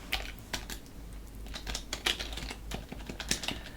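Keys on a computer keyboard click in an irregular, quick rhythm, close and fairly quiet, with no other sound over them.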